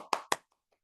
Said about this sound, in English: Have a big round of applause for TM Shubham.